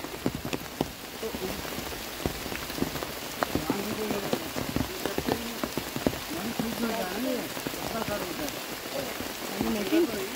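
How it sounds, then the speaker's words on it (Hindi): Heavy rain pours steadily through a Dehradun jungle during a trek, a dense continuous hiss with scattered drop impacts close by, while voices murmur faintly underneath. "बारिश हो रही है।"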